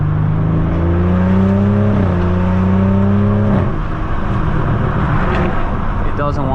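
A tuned 2018 BMW 440i with a Stage 2 BM3 tune, driven in sport mode, revs loudly with rising engine tones, then crackles and pops on the overrun, heard up close from inside with someone talking over it.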